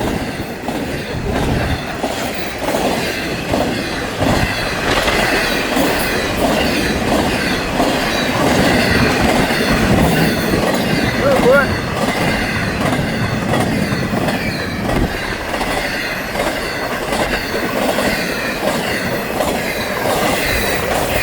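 A Florida East Coast Railway freight train rolls past close by, loud and continuous, with rhythmic clickety-clack of wheels over rail joints and metallic squealing wheels throughout; a voice briefly exclaims once.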